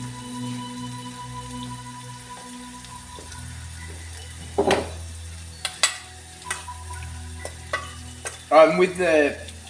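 Lamb and vegetable curry ingredients sizzling in a pan, a steady low fry broken by a few sharp scrapes and clatters of a spoon stirring, with a louder burst of stirring near the end.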